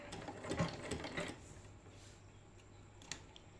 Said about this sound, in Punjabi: ਹੁਣ ਆਪਾਂ ਇਹਦੇ ਉੱਪਰ ਇਸ ਤਰ੍ਹਾਂ ਸਲਾਈ ਲਗਾਉਂਦੇ ਜਾਵਾਂਗੇ